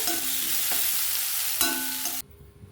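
Lengthwise-sliced medium onion sautés in a pan for white sorghum sundal, a continuous bright sizzle with a couple of stirring scrapes before it cuts off abruptly into quiet.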